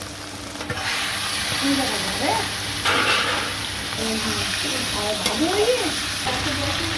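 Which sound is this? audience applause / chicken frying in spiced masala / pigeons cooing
chicken frying in spiced masala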